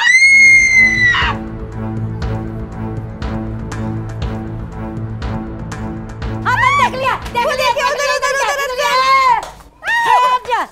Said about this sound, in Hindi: क्या हो रहा है चीख क्यों रही है